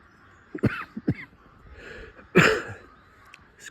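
A man coughs outdoors among sycamores near the sea, with a few short harsh coughs followed by a louder, rougher cough and throat clearing, close to the microphone against a quiet background.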